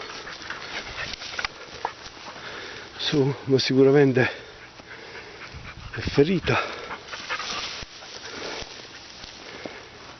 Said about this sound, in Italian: Cani.